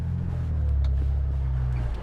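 An off-road 4x4 with its front locker engaged and rear locker out idles along at about 1200 RPM, giving a loud, steady low engine drone with faint clicks and creaks from the drivetrain.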